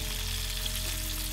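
Walleye fillets fry in hot oil, a steady dense sizzle and crackle heard close and continuous, with no talking.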